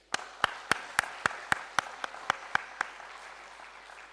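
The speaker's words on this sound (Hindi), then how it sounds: "ताली बजाएं" Audience clapping at a Brahma Kumaris spirituality session, sharp evenly spaced claps in a steady rhythm for about three seconds over a soft bed of scattered clapping, then fading out.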